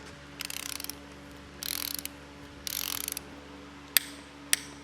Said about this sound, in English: So what do we got on the torque wrench?